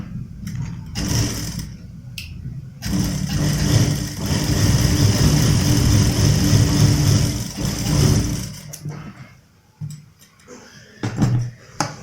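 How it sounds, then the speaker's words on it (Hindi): A sewing machine runs a continuous line of stitching along the edge of a kurta's front button placket strip. It gives a steady, close whir for about five seconds, with brief handling clicks before and after. "यहाँ अपन किनार की सिलाई लगा देंगे इस पे पहले।"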